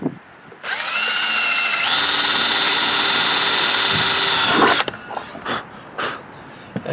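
Power drill with a 3/16 bit boring into an RV roof vent on a 1998 Bounder motor home, a loud close whine that rises in pitch and holds for about four seconds, then cuts off into quiet clicks and handling.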